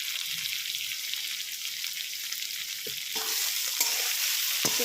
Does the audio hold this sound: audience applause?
no